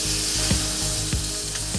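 A tomahawk ribeye steak sears in a hot pan with a loud, continuous sizzle and crackle, with a few soft scraping knocks over the frying and no talk.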